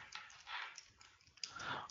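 Typing on a computer keyboard in the Windows Start menu search box, heard as a quick run of light, close keystroke clicks in uneven bursts over faint background noise.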